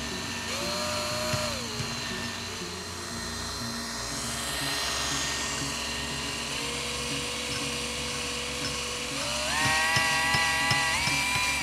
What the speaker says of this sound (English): Let's try a drill.